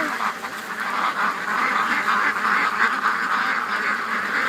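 Domestic ducks quack steadily outdoors beside a creek, a continuous close chorus of overlapping calls with no pauses.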